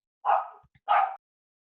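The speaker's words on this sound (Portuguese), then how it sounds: "tá latindo pro nada aqui" A dog gives two separate barks, close and fairly loud, in an otherwise quiet room, with a short pause between them.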